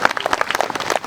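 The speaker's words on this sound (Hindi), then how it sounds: "सब ताली बजाएंगे यीशु मसीह के लिए" Church congregation clapping together in rhythm, a quick series of loud, close handclaps in a steady beat.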